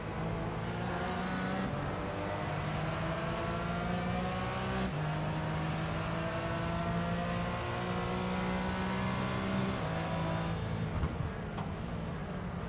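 GT4 race cars on the Chicago Street Circuit city streets, engines droning loudly and steadily with shifting pitch as cars accelerate and pass, continuous throughout with no talk.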